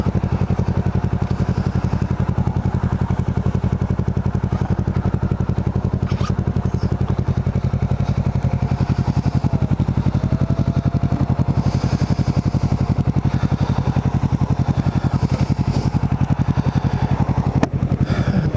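A Kawasaki Ninja 650R motorcycle rides around Cape May, a steady close engine drone with rumbling pulses and wind rush, holding at a constant level with a slight pitch change midway and a thump near the end.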